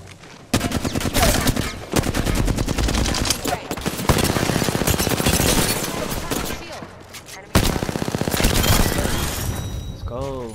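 Rapid automatic gunfire from Apex Legends, loud, dense bursts of shots running nearly nonstop with brief pauses, mixed with voice chatter and game effects.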